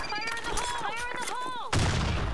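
Sniper gunshots in the competitive shooter game Blackshot, loud sharp game firing blended with whistling game effects, ending in a heavy burst of impact noise.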